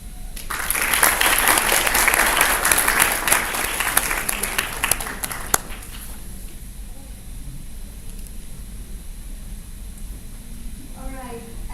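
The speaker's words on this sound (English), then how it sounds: "Everyone, please once again give a round of applause to Ms. Dewi and three of our alumni." An audience at an alumni meeting gives loud, dense applause for about six seconds, then the clapping stops and a quieter room remains, with some speech underneath.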